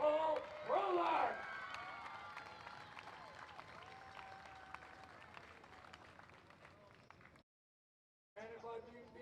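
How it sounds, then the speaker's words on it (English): A crowd at a high school varsity football game cheering and applauding for a senior cheerleader, a sharp whoop and clapping swell that fades into scattered applause, with a voice over it and a brief silent gap near the end. "Everybody, let's cheer for the cheerleader, our senior Nicole Rolack."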